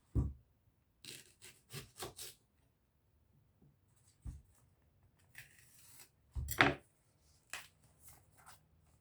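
Dirty leeks are scrubbed by hand: short, quiet bursts of rubbing and rasping come in irregular groups, with near-silent pauses between them.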